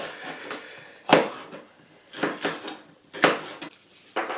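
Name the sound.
chopping vegetables with a knife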